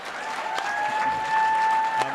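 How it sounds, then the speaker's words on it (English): An audience in a hall applauds steadily after a stage introduction, a dense continuous clapping that sounds moderately distant. "Please give them a round of applause."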